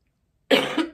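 A single harsh cough bursts out close up after a moment of silence, followed by a short second cough.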